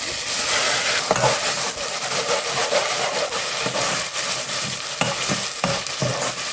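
Ground onion paste drops into spices frying in a pot for Dindigul Thalappakatti chicken biryani, giving a steady close sizzle with scraping stirs and occasional knocks of a spoon against the pot.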